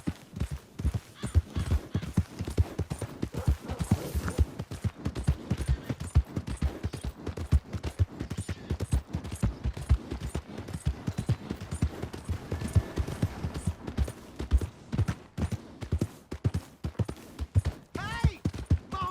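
Horse hooves clip-clopping in the video game Red Dead Redemption 2, a steady, busy patter of hoofbeats running throughout at moderate volume, with occasional game voices over it.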